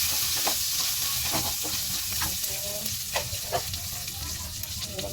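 Pansit guisado noodles are stirred and fried in a pan, with a steady sizzle and repeated scraping strokes of the utensil against the pan, close and continuous.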